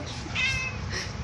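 A house cat meows once, drawn out and fairly close, followed by a fainter trailing mew, with little else around it.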